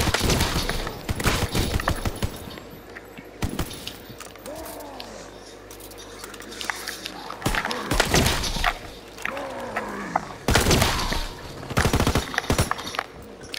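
A pack-a-punched sniper rifle firing full auto in COD WWII Zombies, with loud rapid bursts of gunfire separated by gaps and a voice speaking between and over them.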